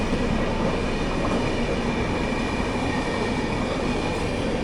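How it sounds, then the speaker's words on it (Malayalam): A Humsafar Express rushing past, heard from an Indian Railways summer special train from Palakkad to Bengaluru, a loud continuous roar of wheels and coaches that stays steady for the whole stretch. "അപ്പോൾ അങ്ങനെ ഹംസഫർ എക്സ്പ്രസ് പോയി."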